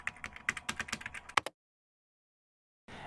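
Rapid clatter of keys on a computer keyboard, a burst of about a dozen close, crisp taps over a second and a half, followed by silence.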